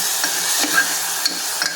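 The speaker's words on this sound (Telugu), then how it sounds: "ఇప్పుడు వేసుకొని నీట్గా కలుపుకుందాం" Chopped tomatoes stirred into a hot pan for a Karnataka-style bean curry, giving soft scraping and stirring scuffs over a steady light sizzle, close and moderately loud with no talking.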